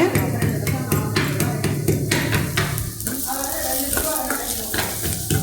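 Ingredients sauté in a pan for a vegetarian liver-style fry, with a loud, constant sizzle punctuated by rhythmic clicks and scrapes of stirring against the metal.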